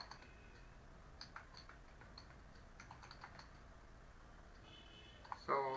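HTML code is typed on a computer keyboard as quiet, scattered key clicks in small bursts, ending with a brief louder electronic tone.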